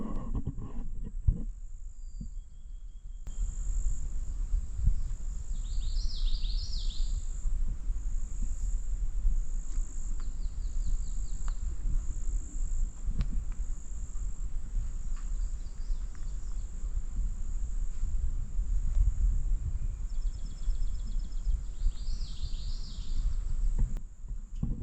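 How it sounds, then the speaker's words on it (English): Steady insect buzzing and chirring over a quiet, remote ATV trail, with faint scattered bird calls and a constant low rumble underneath, continuous and even in level throughout. "Hear the buzzing of some bees and dragonflies"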